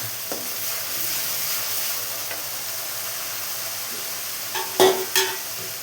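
Spice paste frying in oil keeps up a low, steady hiss, with a couple of sharp utensil knocks near the end; no voices.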